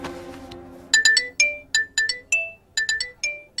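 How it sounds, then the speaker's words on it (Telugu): A phone ringtone chimes in a series of bright, evenly spaced melodic beeps, loud and close, sounding alone after a brief fading tone at the start. "ఇప్పుడు నన్ను ఇది ఫోన్ చేసిందండి"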